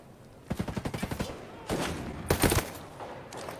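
Sniper rifle fire in a tactical military shooter video game: a rapid run of about nine sharp close shots, followed by two louder bursts of gunfire a moment later, with faint background noise between.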